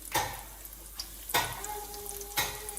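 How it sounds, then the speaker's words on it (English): Hot oil sizzles and crackles steadily, with three louder bursts of spattering frying; a faint steady tone hums in the background. "You just want that light sizzle around it."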